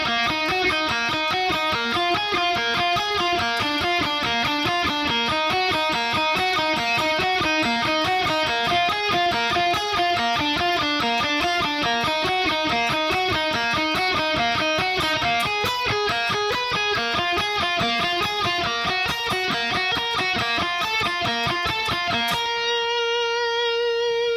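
Distorted electric guitar plays a fast, busy solo passage from Avenged Sevenfold's Hail to the King, with dense rapid notes and vibrato, loud and steady for over twenty seconds before ending on a single sustained note.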